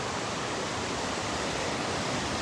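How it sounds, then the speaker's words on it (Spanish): Icy meltwater rushes quickly downhill in cold, snowy Spokane, Washington, making a steady, loud broadband roar with no pauses and no voices. "Y va rapidito por ahí para abajo esa agua y congelada"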